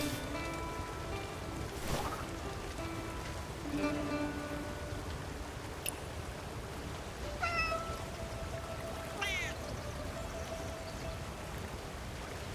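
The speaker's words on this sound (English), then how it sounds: "That's a pretty little kitty cat." A cat meows several times over a steady wash of ambient noise, the calls spaced apart, some short and some drawn out.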